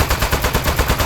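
Rapid automatic gunfire from the Aperture Desk Job video game, a steady rhythm of about nine evenly spaced shots in a second, loud and close with no talking.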